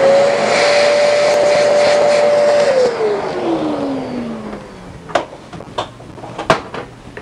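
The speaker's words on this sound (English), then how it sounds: "Just get a vacuum, your normal vacuum" A vacuum cleaner motor whines at a steady pitch, then spins down with a falling tone, followed by a few scattered clicks and taps.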